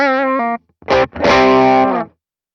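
Electric guitar through a Morgan AC20 amp with the bright switch, light on bass, playing three loud, close phrases separated by short gaps, the last note ringing out before cutting off.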